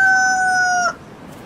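A video game rooster gives a loud, close, synthetic crowing call that holds steady tones for under a second and then cuts off, with nothing after it but quiet room tone.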